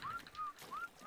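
A small jerboa in the survival game ARK gives thin, high whistles, four short rising and level notes in quick succession, clear and fairly quiet against a soft background.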